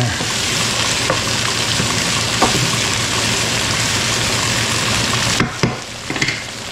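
Catfish pieces fry in butter with a loud, continuous sizzle and spatter. Near the end the sizzle briefly drops and rises again, with a few clinks.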